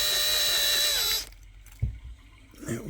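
A power drill whines loudly and steadily as it bores out a rivet on a metal truck bed, then cuts off abruptly, followed by a metallic clunk and faint handling noises.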